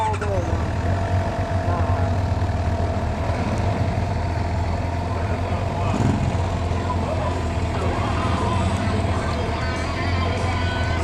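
Suzuki GSX-R 750 motorcycle, a 2016 model, running steadily with a constant low engine drone throughout, loud and close, with people talking intermittently over it.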